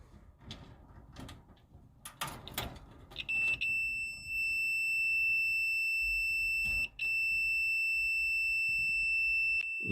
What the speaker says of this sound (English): So here we're doing a continuity test, and this one is good.